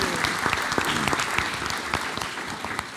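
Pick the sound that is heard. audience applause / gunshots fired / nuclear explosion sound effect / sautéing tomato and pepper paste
audience applause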